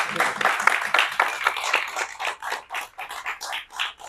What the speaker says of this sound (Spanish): La verdad es que vamos a dar un aplauso.